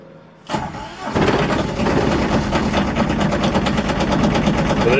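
An Aixam Mega Multitruck van with a flat battery cranks briefly, catches, and settles into a loud, close, rattly idle with an even rapid pulse.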